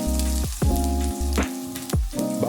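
Onions for chicken Bicol Express sizzling in a hot pan, a continuous crackling fry with periodic sharp stirring scrapes, close and clear without talking.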